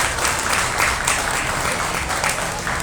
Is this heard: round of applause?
yes